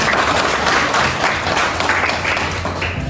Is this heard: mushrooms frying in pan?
no